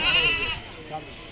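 A goat bleats at a busy goat market at Deonar, with a strong bleat at the start that fades under crowd noise and background talk.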